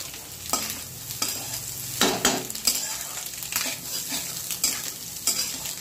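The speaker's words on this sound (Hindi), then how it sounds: "समथिंग 5 मिनट इसे अच्छे से भूनना है।" Egg roll filling frying in a pan and being stirred steadily, with a close, gritty sizzle and repeated scraping strokes of a spoon across the pan bottom, no talking.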